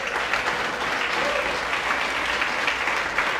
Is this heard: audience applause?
yes